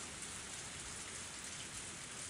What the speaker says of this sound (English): Even in this torrential downpour,